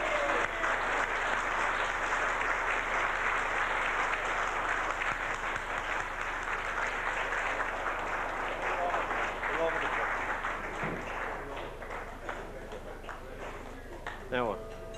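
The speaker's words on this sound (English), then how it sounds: "give him a round of applause." Crowd applause for Mick Scanlon at the Scanlon Memorial Cup presentation after a 1981 Gaelic football match between Galbally and Rathgar Gaels; sustained clapping, loudest early and gradually thinning out, with some voices mixed in.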